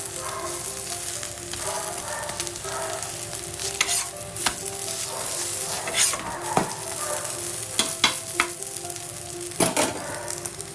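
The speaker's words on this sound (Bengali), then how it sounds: "এগুলো করে এক এক করে ভালো করে ভেজে নেবো।" Parathas for an aloo paratha snack frying in a pan, a loud continuous sizzle with clinks and scrapes of a utensil stirring throughout, no voices.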